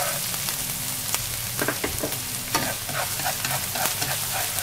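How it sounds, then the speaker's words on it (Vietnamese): Minced shallots and garlic sizzle steadily in hot oil for Yangzhou fried rice, a dense crackling hiss with occasional stirring scrapes, close and continuous. "Mình cho 1 phần 2 lượng hành tỏi băm nhỏ vào để phi thơm."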